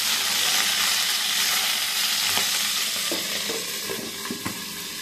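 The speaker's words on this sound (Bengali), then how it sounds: "যে আমি রোস্টটা অলরেডি ভাজি করতে দিয়ে দিয়েছি, এত পরিমাণ ছুটছে এই জন্য ঢেকে দিয়েছি।" Roast sizzles and spits steadily under a lid in a frying pan, a dense close hiss that eases a little toward the end, broken by a few light knocks.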